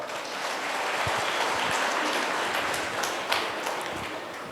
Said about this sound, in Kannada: ನೋಡಿ, ದೊಡ್ಡ ಚಪ್ಪಾಳೆ.